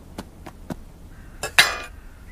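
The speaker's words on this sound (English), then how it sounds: "First, place the sausages in the frying pan." Sausages dropped into a frying pan by an automated cooking machine, with a few sharp metallic clinks and taps in a row, then a brighter, ringing clatter that quickly fades.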